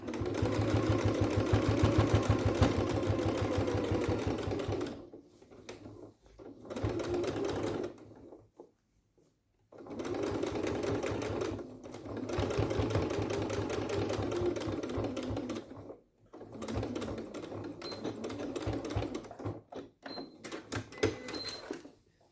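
A sewing machine stitches fabric in rapid bursts, pausing and restarting several times, close and steady, with no talking.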